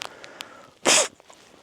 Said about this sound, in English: I'm just going to sneeze, I do apologise.